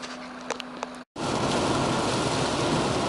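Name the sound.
rain heard while driving in a car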